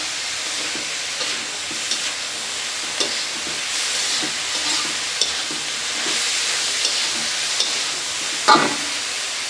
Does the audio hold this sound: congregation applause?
no